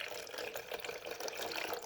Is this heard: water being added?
yes